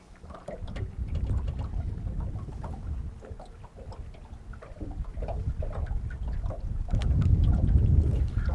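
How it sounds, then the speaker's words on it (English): Wind blows during a fishing outing, rumbling and buffeting the microphone in uneven gusts that build stronger near the end, with no talking. "Well, that wind's tough."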